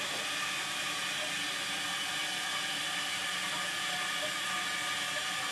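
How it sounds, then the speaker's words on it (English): A toilet tank refills with water after a new flush valve has been fitted, giving a steady, even hiss of running water that holds unchanged from start to finish with no voices. "Water is flowing. We're going to give that a minute to fill up"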